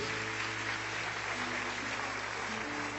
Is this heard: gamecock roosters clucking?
no